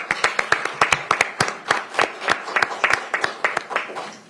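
Sparse applause at a Pierce County Council meeting, a small audience of individual claps sounding close and distinct in an irregular, patchy rhythm over a few seconds.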